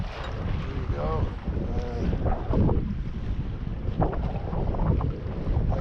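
Steady wind roars over a sailboat stuck aground on a sandbar, a constant rushing blow with a faint voice-like murmur mixed in.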